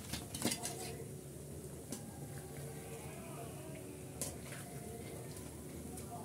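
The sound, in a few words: lifting fried khaja from oil with utensils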